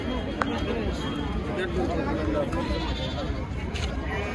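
Sheep bleat repeatedly, loud and close, at a busy livestock market in Kerur, over a constant babble of crowd voices and trading chatter.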